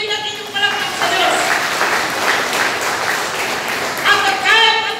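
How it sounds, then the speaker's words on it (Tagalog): Congregation at a Sunday church worship service applauding, dense, steady clapping filling the room for several seconds, with a voice over it at the start and end. "tuloy natin yung palakpak sa Diyos"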